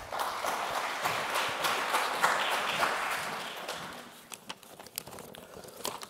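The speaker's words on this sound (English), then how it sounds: "Please welcome with applause." Conference audience applauding to welcome a speaker at a digital government event in Riga, a dense burst of clapping that gradually thins and fades, with a few last scattered claps at the end.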